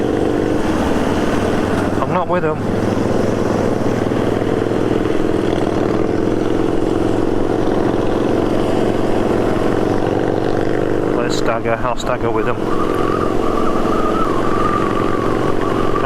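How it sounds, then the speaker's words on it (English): Motorcycles on an evening sunset ride roll along in a steady, continuous engine drone with rushing wind, loud and close throughout, while a rider speaks briefly over the noise. "What's these bikes sounding like in this audio now?"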